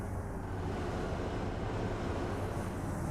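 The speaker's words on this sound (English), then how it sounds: "Yep, that is a helicopter." A helicopter in a video game drones overhead as a steady, dense rumble with whirring rotor texture, constant and fairly loud throughout with no speech.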